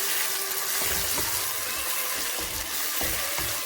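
A yogurt chicken dopiaza mixture spiced with cumin, coriander and salt sizzles steadily in a pan while it is stirred, with soft scraping strokes recurring every second or so under the constant frying hiss.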